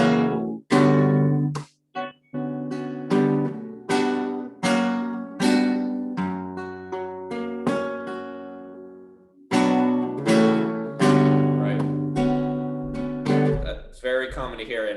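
Flamenco guitar runs through solea compases strung together the way beginners play them, bright strummed chords in rhythmic bursts with short gaps and ringing decays, played alone without talk.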